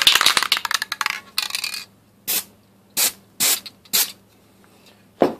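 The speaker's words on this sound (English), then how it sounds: "Spray the power button." Rust-Oleum NeverWet coating sprayed from an aerosol can onto a smartphone's power button: a rattling hiss at first, then a series of short, sharp spray bursts separated by brief pauses, close and loud.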